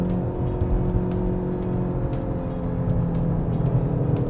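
A Lincoln MKZ Hybrid car accelerates from inside the cabin, its engine noise a steady low droning hum that swells gradually over a few seconds, with road rumble beneath and no talking.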